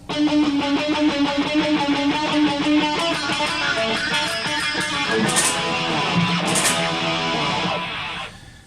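Distorted electric guitar plays a fast picked riff with steady repeated notes, loud and continuous, with a couple of squealing high harmonics near the end.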